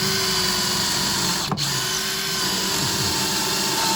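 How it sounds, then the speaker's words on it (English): Continuous whining drone of a power drill boring a hole through old wood in a shed, running steadily, with a brief dip and catch partway through as the bit bites. "we're going to drill a hole through here so we don't disturb this old bit of wood"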